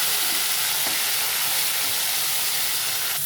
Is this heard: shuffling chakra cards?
no